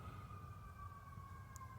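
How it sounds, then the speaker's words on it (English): A far-off emergency siren holds a steady, thin wail over low outdoor rumble on the Oregon coast. It is faint and continuous, with no voices. "don't know what that siren is"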